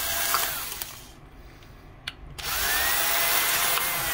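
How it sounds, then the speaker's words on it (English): A power drill whirs steadily while drilling holes in a primed RC boat motor mount, dips briefly into a quieter pause with a couple of clicks, then spins up again, close and loud with no talking. "Going to drill my holes out for my epoxy to sit in."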